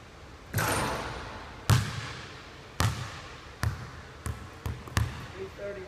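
A missed basketball shot, the ball bouncing on a hard court in a series of sharp thuds that come quicker and softer as it settles, loud and close.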